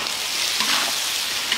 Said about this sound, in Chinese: 下入龙虾，500ml料酒，再放入13香